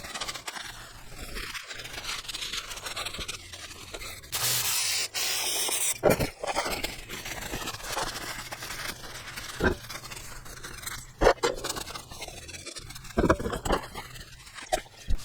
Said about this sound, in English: So now you need to spend some time with brake clean and just clean this whole area.